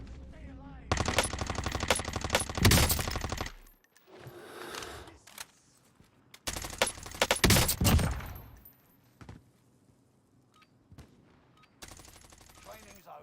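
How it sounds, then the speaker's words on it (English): Gunfire in a video game: long, rapid automatic bursts of close, loud shooting with harsh rattling, broken by brief pauses and shorter volleys. "that boy shooting some shit"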